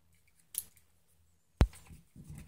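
A sharp fresh blade slicing cereal box cardboard along a stencil: two brief, crisp cutting strokes about a second apart, close and fairly loud, with a soft scrape after the second.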